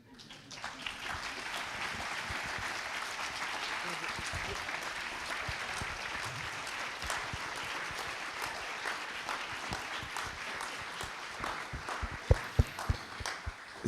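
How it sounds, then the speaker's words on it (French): Sustained applause from an audience honoring presenting students at a university research day event, dense steady clapping throughout the whole stretch with a few sharper claps near the end, voices faintly mixed underneath. "Ces applaudissements vous sont aussi adressés, bien sûr."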